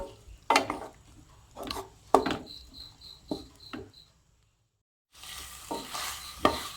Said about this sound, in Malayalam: ഒന്ന് നന്നായിട്ട് ഇളക്കി യോജിച്ച ആവശ്യമെങ്കിൽ ഉപ്പ് ചേർത്ത് കൊടുക്കാം.